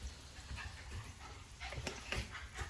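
Dogs playing in a home kitchen, faint whimpers and scuffling yips scattered through a steady background hiss, with no clear barks.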